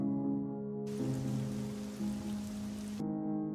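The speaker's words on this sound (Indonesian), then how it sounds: "Suara rintik hujan membangunkan Eddie." Rain patters steadily on a surface at night, a dense hiss that swells in for a couple of seconds over a low droning music bed.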